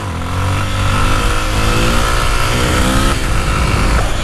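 A Honda XRE motorcycle engine revs hard and steadily while accelerating during a wheelie attempt. The loud, continuous drone holds through the whole stretch with no talk over it.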